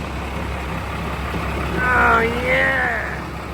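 An FV432 armoured vehicle engine starts and runs, a loud, steady diesel rumble that swells briefly as it catches, while a man exclaims over it.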